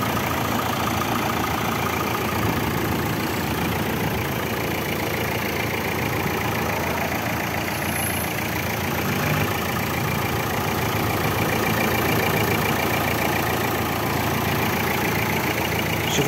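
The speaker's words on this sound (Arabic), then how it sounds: "هيه شوف الموتور ديالها كيداير." Dacia Dokker van with a 2013-era engine idling, a steady, continuous mid-low rumble held close and even throughout with no talk over it.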